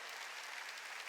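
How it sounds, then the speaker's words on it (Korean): A church congregation at a Sunday service applauds, a faint, distant, even patter of clapping for about a second with no speech. "빨리 박수 치라고"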